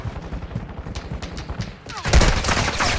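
Video game gunfire in Call of Duty Warzone, rapid bursts of automatic shots crackling in the mix and growing louder near the end, with faint voices.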